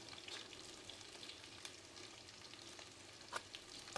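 Chopped onion sizzles in a hot oiled pan while egg fried rice is being made, a steady close crackle with a few louder spits and scrapes of stirring toward the end, no voices.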